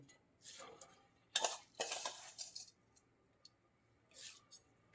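Washed basmati rice being mixed with spices and bay leaf in a cooking pot, a few scraping, stirring clinks of a spoon against metal in short separate bursts, close and clear with no talking.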